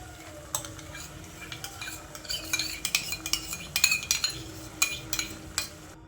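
Carrot halwa being stirred after milk and fresh cream go in, giving a flurry of quick metallic clinks and scrapes of a spoon against the pan. The strokes grow busier midway over a low background hum.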